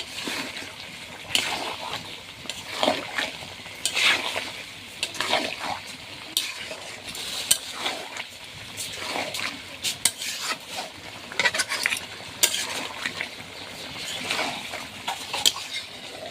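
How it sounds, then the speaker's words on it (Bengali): Beef pieces are stir-fried bhuna-style in a pan with a little water, a soft simmering sizzle broken by repeated close scrapes and clinks of a spatula against the metal, irregular throughout. "আর এই যে মাংসটা এইভাবে কষায় নিচ্ছি"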